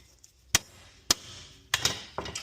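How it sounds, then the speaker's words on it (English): Three sharp metallic hammer blows on bolts during a spindle replacement on a 2006-2011 Buick Lucerne ring out at a steady pace, each a hard clank with a short ring, close and loud, with no voices. "it's safe to hit it with a hammer to a certain degree"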